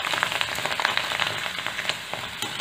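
Bhungla pipe fryums fry in hot oil, a close, steady crackling sizzle with quick popping bursts throughout, no talking.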